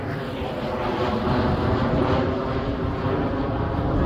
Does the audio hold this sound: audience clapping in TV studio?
no